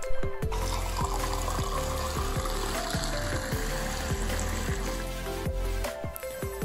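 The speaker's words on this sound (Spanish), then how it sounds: "La velocidad con la cual dispensa el agua es bastante buena, además de que no es nada ruidoso" Steady stream of water pouring continuously from an electric water dispenser under a busy, rhythmic musical backing, with no talking.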